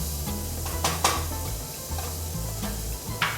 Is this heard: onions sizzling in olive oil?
yes